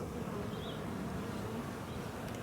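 Honeybees hum steadily at a hive infested with Varroa mites, a dense, continuous low buzz of many insects close by, unbroken and without any voices.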